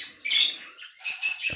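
A flock of budgerigars chirps in close, loud bursts of high, bright warbling tweets, two clear clusters of calls with a brief gap between them.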